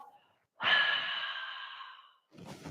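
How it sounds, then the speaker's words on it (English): A long, breathy exhale out through the mouth during a Kundalini yoga stretch, one steady airy rush lasting close to two seconds after a brief quiet pause, with another breath starting at the end. "Exhale out your mouth."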